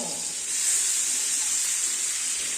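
Fish frying in a pan gives off a steady, close, bright sizzling hiss that holds evenly throughout without pauses.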